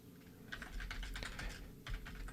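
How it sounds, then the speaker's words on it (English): Quick, steady typing on a computer keyboard, with light clicky keystrokes in an irregular patter that stays fairly quiet and close, and no voices. "I can keep typing."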